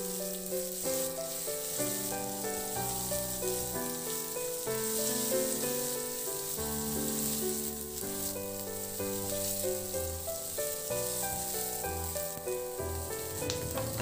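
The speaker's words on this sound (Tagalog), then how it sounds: "Ilagay ko na rin yung sibuyas. Ganun lang din ihalo hanggang sa mag-translucent." Chopped onion sizzles steadily in a hot pan as it is stirred until translucent. The soft, continuous frying hiss runs beneath prominent melodic background music.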